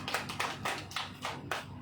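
A church congregation clapping in unison, a steady rhythm of about six loud, close claps in quick succession.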